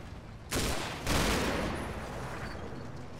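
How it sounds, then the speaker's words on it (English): Shoulder-fired machine gun in the Combat Mission wargame, aimed at a target around 400 meters away: a dense, continuous rattle of gunfire that starts abruptly and swells, then carries on steadily under a noisy battlefield background. "Maybe a bit optimistic firing at like a 400-meter target. You know, with an MG from the shoulder there."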